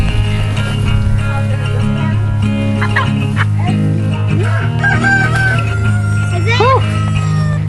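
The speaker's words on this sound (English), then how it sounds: "Those roosters are as big as you, Isaiah." Roosters crowing in a chicken coop amid clucking hens, several drawn-out crows over a busy, loud farmyard background with people talking.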